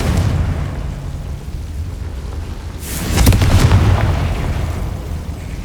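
A Confringo blasting spell goes off in the Hogwarts Legacy video game, a loud booming burst about halfway through that rolls on for a couple of seconds over a steady rumbling game background.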